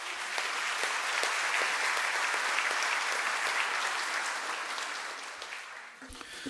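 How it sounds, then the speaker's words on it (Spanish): An audience at the inaugural talk of a governance and public-management program claps steadily for a speaker, with dense applause that tapers off gently toward the close. "un aplauso para él"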